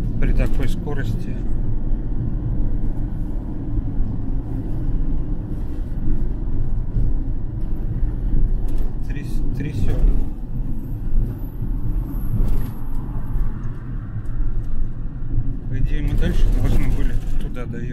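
Inside a Moscow route 372 city bus while driving, a steady low engine and road rumble fills the whole stretch, with passengers talking over it and occasional rattles.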